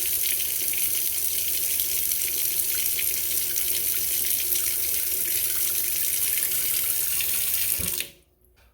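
Water from a newly installed Kohler Cruce single-handle kitchen faucet runs into a new sink in a steady, loud, close rush that stops abruptly near the end.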